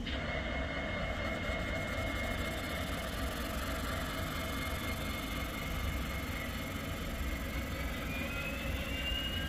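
A model train locomotive on a DC master controller revs up: a steady, continuous mechanical rumble with a high whine on top, running hard without letup.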